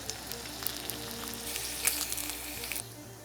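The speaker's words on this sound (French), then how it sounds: "le temps de faire notre chips de chorizo" Chorizo slices sizzle and crackle steadily as they fry into crisps in a pan beside a truffle risotto, a close, continuous bed of fat spitting with small pops, alone without voices.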